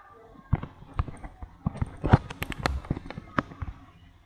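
Rapid series of sharp grenade blasts and impacts from a Free Fire mobile game match, irregular bursts crowding together in the middle, loud and close.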